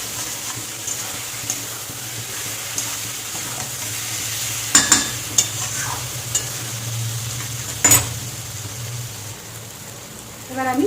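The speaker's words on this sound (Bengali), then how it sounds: "এবার দিয়ে দেবো পটল ভাজাগুলো" Fried pointed gourd (potol) goes into a pan of frying potatoes and is stirred. A steady loud sizzle runs throughout, with a few sharp scraping knocks of the spoon against the pan.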